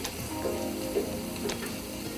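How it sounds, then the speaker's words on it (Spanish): Onion frying in a pan as part of a turkey stuffing, giving a faint, steady sizzle with light crackling and a few soft stirring clicks, with no voices. "Estamos friendo la cebolla."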